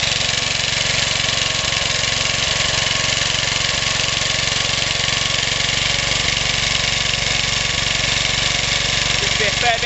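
Old Suffolk Briggs small engine running steadily at idle, a continuous close and loud drone with a faint irregular knock throughout and no let-up across the clip.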